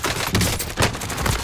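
Gunfire in a Call of Duty game, with dense bursts of shots crackling in quick succession, loud and close.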